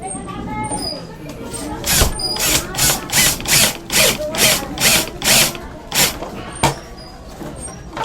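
Power drill driving a black Hardieflex screw with a scraper head: about nine short, rhythmic whirring bursts that grind into the board, close and loud, with a voice speaking before and between.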